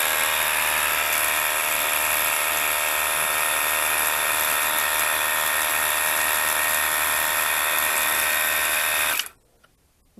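A WORX WG629E pressure washer runs at its high setting, a loud, steady motor whine with a tonal hum that holds for about nine seconds, then cuts off abruptly.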